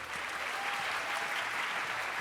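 An audience at a panel discussion on the future of humanitarian aid welcomes the panelists with warm, steady applause. The many hands clap evenly at moderate volume throughout, with no pauses.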